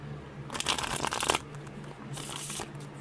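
Playing cards being shuffled close by in two quick riffling bursts separated by a short pause, with a low steady hum underneath and no talking.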